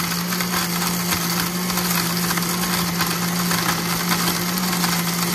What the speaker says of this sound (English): we'll mix it up and make it a frappuccino